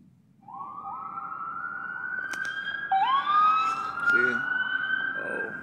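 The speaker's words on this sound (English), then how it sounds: "it's the Thomas District of Columbia ambulance" An ambulance siren wails on a Washington DC street, a rising and falling electronic tone that grows louder as the vehicle passes close by, with faint street noise underneath.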